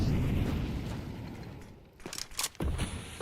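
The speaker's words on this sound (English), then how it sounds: "That's a big nade." A grenade blast in a Counter-Strike 2 professional match, a heavy booming rumble that fills the first two seconds and then drops into sharper crackling bursts, loud and close.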